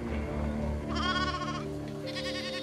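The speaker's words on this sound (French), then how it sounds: "La chèvre du Rove." Rove goats, a rare 2,000-year-old breed, bleat in a quavering run of calls, one long cry followed by a second, close and clear over a steady background hum.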